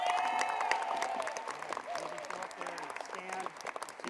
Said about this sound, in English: So let's give them all a big round of applause.